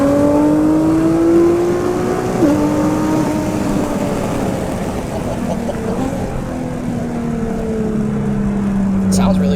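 Exhaust note of an Infiniti Q60 RA500 pulling through the revs, a steady rising drone with a clear shift step partway, heard from inside the car as it accelerates.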